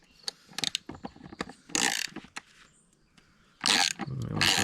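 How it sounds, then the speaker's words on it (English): Bolts on an Evinrude 88SPL outboard motor are loosened and removed with a ratchet, giving rapid clicking bursts and metallic rattles in uneven clusters, close and moderately loud. "let's see if these bolts come out nice for us"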